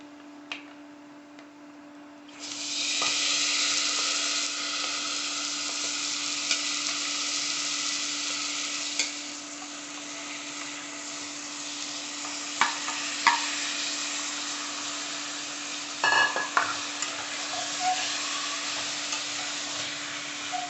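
Chicken pieces hit hot oil seasoned with turmeric and chili powder, setting off a loud, sustained sizzle that settles into steady frying with occasional clicks and stirring knocks, close up.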